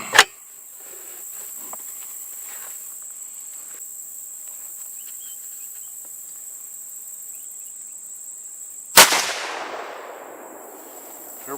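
Two loud rifle shots from a CVA Scout firing Remington Express 35 Whelen rounds outdoors, one at the start and one near the end with a rolling echo, over a steady chorus of crickets.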